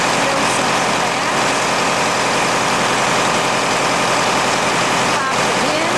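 Grain auger running into a bin during soybean harvest, a loud, continuous mechanical drone that holds steady and close for the whole stretch.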